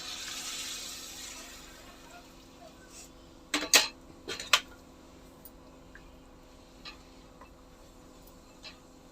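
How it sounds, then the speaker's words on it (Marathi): Water pours steadily into a pot with a soft hissing rush, followed by two sharp metallic clanks, then quiet kitchen stillness. "आपण याच्यामध्ये घालणार आहोत गरम पाणी"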